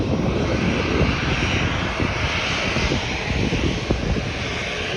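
Engines of a United Airlines airliner at an airport, a loud continuous roar with rumbling low end and a faint flutter, holding steady across the whole stretch.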